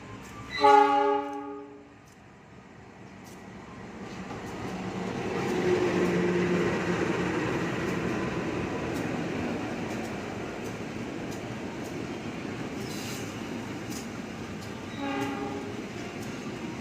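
At an Indonesian station, a Kutojaya train crosses the Mutiara Selatan: a loud two-tone horn sounds briefly, then a long rolling rumble of passing railcars builds and holds steady, and a second horn blast comes near the end.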